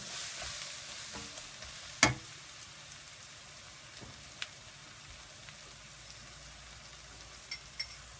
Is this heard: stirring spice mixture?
yes